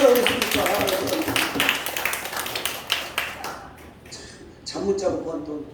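Church congregation at a Sunday worship service clapping for a member named Kim Han, a burst of sparse, uneven hand claps with voices mixed in, fading before a brief second flurry near the end.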